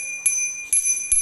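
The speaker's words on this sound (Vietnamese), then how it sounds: "Có chuông này, các bạn nhìn này." A bicycle bell on a child's bike is rung three times in quick succession, each a bright, clear metallic ding heard up close in a quiet room.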